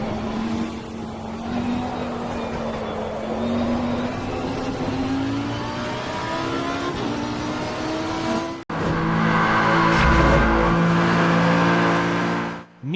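Race car engines in a GT3 racing video game drone steadily with rising and falling harmonic whines, a sudden cut near the middle, then a louder, denser passage of roaring engines and shifting pitch.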